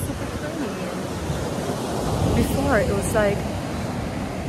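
Ocean surf on a beach at Palomino, Colombia, a steady roaring wash of small breaking waves with wind buffeting the microphone, while a person talks over it.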